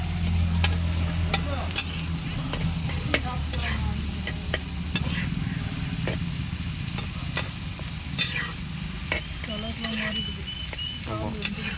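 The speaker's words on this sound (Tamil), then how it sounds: "எல்லாத்தையும் ஒன்றா மிக்ஸ் பண்ணி விட்டுறலாம்" Prawn tawa fry masala frying in a pan at an outdoor village cookstove. A steady sizzle runs throughout while a spatula scrapes and clinks against the pan at irregular intervals, close and fairly loud, with no speech.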